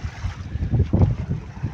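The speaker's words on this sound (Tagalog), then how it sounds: "Mahangin." Steady wind rushing and buffeting, with low rumbling gusts swelling and easing throughout, loud and close like wind across a microphone outdoors near water.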